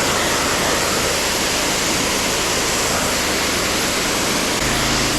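A power washer sprays water across a freshly poured concrete sidewalk on a hot day, producing a loud, continuous broadband hiss that holds steady throughout without pauses.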